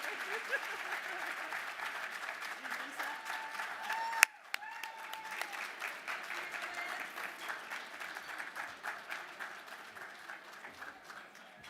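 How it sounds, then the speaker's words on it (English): An audience applauding for an honoree at an awards ceremony and ball: sustained clapping at moderate distance, with a sharp louder hit partway through, then the applause continues evenly to the end. "please clap again for Mr. Lewis"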